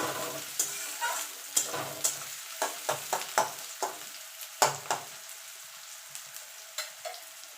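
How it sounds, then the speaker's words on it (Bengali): Onions fry in a pan for a chicken dish, a soft continuous sizzle punctuated by a rapid series of sharp scraping stirs, loud and close, with no talking. "পেঁয়াজটা একটুখানি ভাজা ভাজা করে নেবো খুব কড়াও ভাজবো না"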